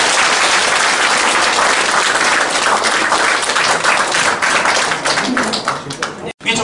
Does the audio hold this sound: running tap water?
no